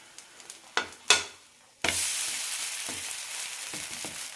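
Moong bean and oats dosa frying in oil and ghee on a pan, a steady close sizzle that swells loudly when fat hits the surface, preceded by a few sharp clinks and taps.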